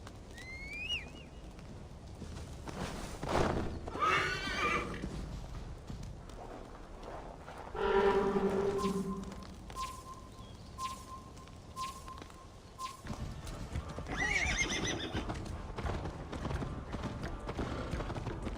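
In the Viking-era game Assassin's Creed Valhalla, horse hooves clip-clop in a steady rhythm throughout, with a brief neigh partway through, over outdoor ambience and occasional faint voices.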